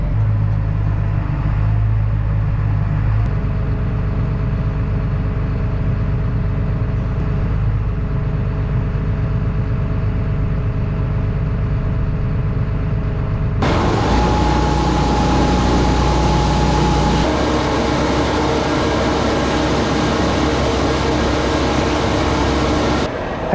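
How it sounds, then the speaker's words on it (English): A tractor engine runs steadily and loud nearby, with a continuous low drone that shifts in tone partway through; no one speaks. "Oh, I love this tractor."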